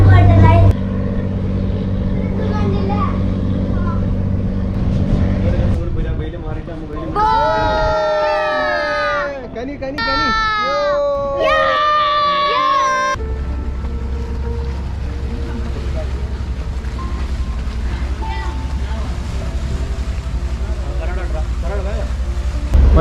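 A houseboat cruising the Alappuzha backwaters in Kerala, its engine drone steady and close throughout, with bursts of animated talk and singing-like voices riding over the motor partway through.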